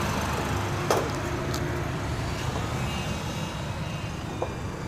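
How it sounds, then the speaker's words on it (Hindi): Inside a Japanese car with the air conditioner switched on, a steady broadband blower hiss and low engine hum run throughout, broken by a couple of faint clicks. "इसका एसी ऑन किया है"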